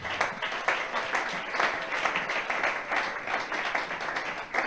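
A church congregation applauds the Lord during a service of prayer and teaching, a steady, dense round of clapping from many hands that fills the room without a break.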